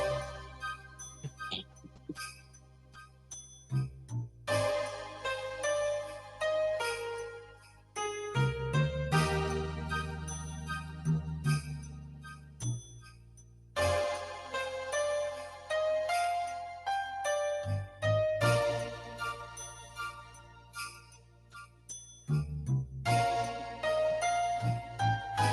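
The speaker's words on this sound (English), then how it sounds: "This one actually has sleigh bells in it." Final Fantasy Christmas song with sleigh bells jingling steadily through a full musical arrangement, tinkling bright and constant over melody and rhythm for the whole stretch.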